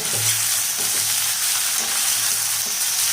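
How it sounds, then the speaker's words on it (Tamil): Tender young brinjal fries in a pan with a steady, hissing sizzle, broken by faint scraping sounds as the pieces are stirred, and no voices. "இப்போ கத்திரிக்காய் நல்லா வதங்கிட்டோம்"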